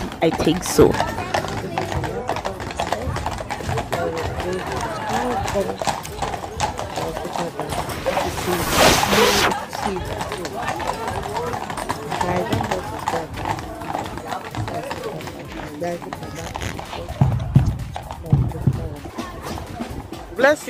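Horse hooves clip-clopping steadily through a Pentecost outing, mid-distance, with people talking over the rhythm and a burst of broadband noise partway through.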